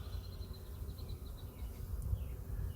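Honeybees swarm over hive frames while a queen cell builder is set up, a faint continuous buzzing hum with soft wingbeat whine drifting near and far, over low rumbling handling noise and no talk.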